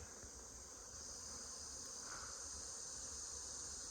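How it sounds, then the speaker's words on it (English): Honeybees at a nest up in a tree make a faint, continuous high buzzing drone, distant and steady for the whole stretch, with no speech. "Got looks like a honeybee nest up there in the tree."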